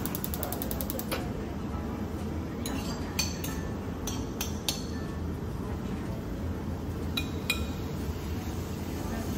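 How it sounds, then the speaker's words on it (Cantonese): Shrimp stir-fry in a pan with leftover oil after the heat is switched off, a steady low sizzle broken by sharp metallic clinks and scrapes of a utensil against the pan, with faint talk underneath. "好，睇住炒蝦。"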